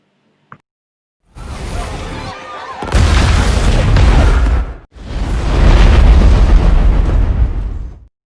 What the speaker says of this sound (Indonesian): Allison dan Nathan melihat ledakan tersebut dari luar